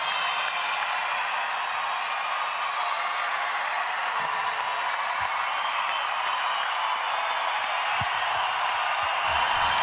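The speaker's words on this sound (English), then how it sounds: "What a reception from the crowd." Boxing crowd after a women's boxing bout applauding and cheering, a steady dense wash of clapping and cheers lasting throughout without gaps.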